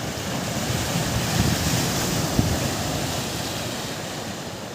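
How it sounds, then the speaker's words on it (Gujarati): Sea waves wash steadily onto the shore at Dwarka beach, a continuous broadband surf roar with gentle swells and some wind rumble, no voices. "એ મોજા."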